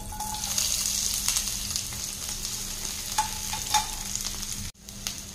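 Chopped onions, two large ones, fry in oil for an idli kurma as they are stirred, a steady close sizzle with scraping strokes through it and a brief break near the end.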